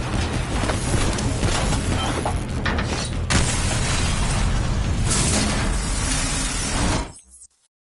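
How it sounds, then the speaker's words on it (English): Dense, loud explosions and rumbling blasts fill a facility battle in Call of Duty Black Ops 3, sustained and chaotic with layered booms, before cutting off abruptly near the end. "Hendricks, we have multiple explosions across the facility."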